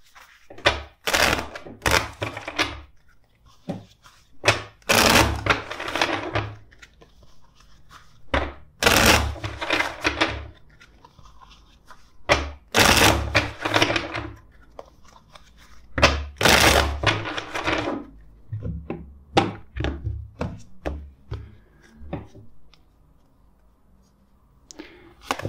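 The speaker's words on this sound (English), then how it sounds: "let's shuffle the deck four times for you." A deck of tarot cards is shuffled by hand in repeated bursts of riffling and tapping, close and crisp, with pauses between rounds and occasional thumps.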